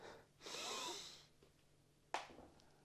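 A man draws one long audible breath in through the nose, close and airy, followed by a brief sharp snort-like exhale, with no talking.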